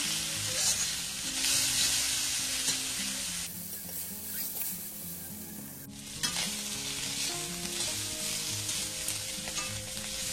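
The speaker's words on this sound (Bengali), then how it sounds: "মাছগুলো ভাজা হয়ে গেছে, এবার এটা তুলে নিচ্ছি।" Dried fish frying in oil in a pan gives a steady, fairly quiet sizzle with stirring sounds, easing briefly in the middle before picking up again; no one speaks.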